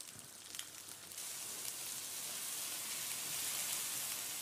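Red onion, mushrooms, courgettes and red peppers sauté in a deep pan, a quiet, even hiss that swells slightly after a brief clatter at the start.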